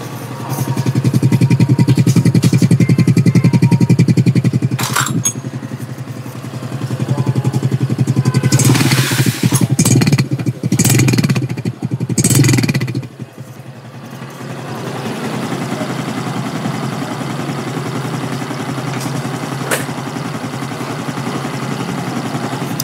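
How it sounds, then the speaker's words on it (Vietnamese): Honda Supra X 125 motorcycle imported from Indonesia, its exhaust running at a loud, close idle with a steady low throb, rising through a few short revs in the middle before settling back to a quieter idle. "Các bạn mình nghe tiếng bô xe cái đi ha."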